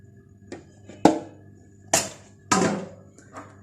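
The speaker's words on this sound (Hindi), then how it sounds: "तमाम अंडे ब्लेंडर में डाल देंगे।" Eggs are dropped into a blender jar for egg halwa, making several hollow knocks and thuds at uneven intervals, close and fairly loud, with no talking.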